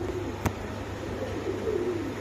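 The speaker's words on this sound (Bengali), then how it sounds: "খুবই সুন্দর কবুতরটা" A Spanish pouter or other fancy pigeon coos softly in low repeated murmurs at a pigeon seller's stall, with one sharp click near the start and a steady background hum.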